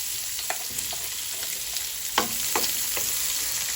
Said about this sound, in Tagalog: Ngayon, mainit na siya. Lagyan na natin ang sibuyas.